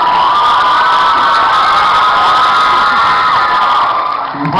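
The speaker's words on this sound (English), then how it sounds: "Why are you cheering at that?" An audience at an anime convention panel cheering and whooping loudly, a dense, sustained roar of many voices that holds steady for several seconds before easing off at the end.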